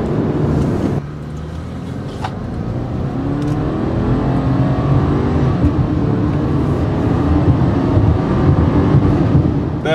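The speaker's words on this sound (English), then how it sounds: "I'm just going to floor it and see what the car does" A 2014 Subaru Forester XT turbo with a CVT pulls hard at full throttle, a steady loud engine drone rising in pitch across the run, heard from inside the cabin with no talk.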